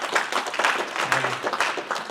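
Applause for a church member's upcoming eightieth birthday during a Korean Presbyterian Sunday service in Las Vegas: a congregation claps steadily at moderate volume for about two seconds, with faint background voices.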